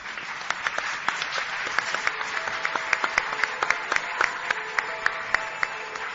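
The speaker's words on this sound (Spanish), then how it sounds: "Pido un aplauso para él, por favor." Steady applause from a modest crowd, many hands clapping with sharp individual claps standing out, continuing throughout at moderate volume.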